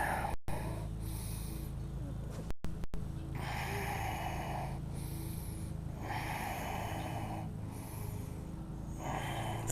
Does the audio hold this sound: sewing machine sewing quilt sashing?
no